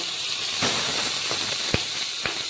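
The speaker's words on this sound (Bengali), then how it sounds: "এখানে একটা কড়াই চাপিয়ে দিয়েছি এবার মাছগুলোকে আমি ভেজে নেব" Chapila fish fry in a wok, a steady loud sizzling hiss broken by a few sharp pops and crackles, with no talking.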